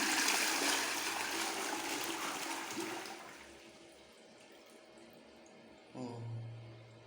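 A clogged toilet is flushed after its tank has refilled, with a loud rushing gush that slowly fades into a quieter trickle, then a short refill hiss starting near the end.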